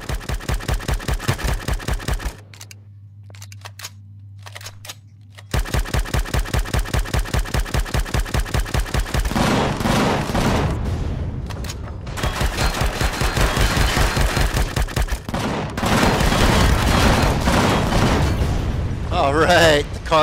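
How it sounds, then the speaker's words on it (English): Cannons and gunfire in the space survival game Empyrion Galactic Survival during a base defence: rapid, rhythmic bursts of shots with a short lull, then dense, overlapping volleys that grow louder. "They're gonna start shooting at the cannons"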